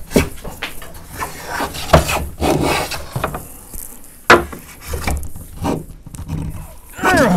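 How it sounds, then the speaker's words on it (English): A hand plane shaves an oak threshold in a series of rasping, uneven wooden strokes with some chatter, close by and fairly loud, separated by brief pauses. "We want the grain to be going up this way if we're planing from this side."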